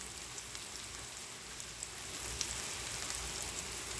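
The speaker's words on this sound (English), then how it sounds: "And then my water's boiling." A pot of water at a rolling boil gives a steady, dense bubbling hiss that grows slightly louder partway through, close and continuous with no voices.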